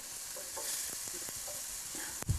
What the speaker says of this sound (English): slightly increase the temperature until it recovers and starts frying